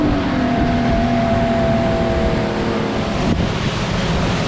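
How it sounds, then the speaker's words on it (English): Atlantic Ocean waves heard from a small boat heading out of a bay near Little Tybee Island, a loud constant rush of surf and wind with a steady engine drone underneath. "Here's the Atlantic Ocean dead ahead."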